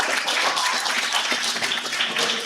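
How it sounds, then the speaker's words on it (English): A crowd at a boxing club home show applauds the event's sponsor, giving dense, continuous clapping at close range that fills the whole moment without a break. "Please give him a big round of applause."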